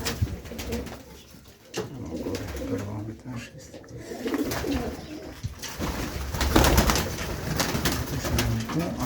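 Pigeons sitting on eggs coo in low, repeated throaty calls close by, over a busy background with faint rustling.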